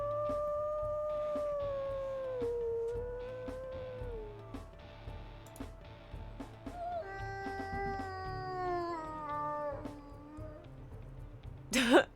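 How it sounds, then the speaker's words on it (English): A wolf in WolfQuest Anniversary Edition lets out a long wavering howl, rising and falling in pitch, followed by a second mournful howl and a sharp yelp at the end, over faint game ambience. "that to me is always the desperate howl"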